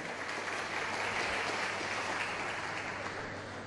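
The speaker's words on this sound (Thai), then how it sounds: "ขอเสียงปรบมือให้กับรณกิจวอเทคโนโลยี" Applause from the crowd at a Thai boxing match as the red-corner fighter is introduced, a soft, even wash of distant clapping that stays steady across the short span.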